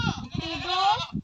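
A goat bleats once, a close, wavering, drawn-out cry lasting about a second.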